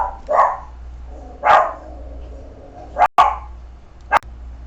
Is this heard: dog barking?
yes